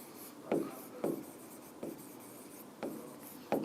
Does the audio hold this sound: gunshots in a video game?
no